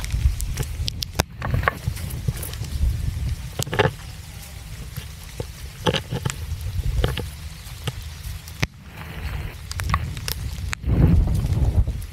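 Steady wind buffeting the microphone with low rumbling gusts, broken by occasional sharp knocks and rustles, no voices.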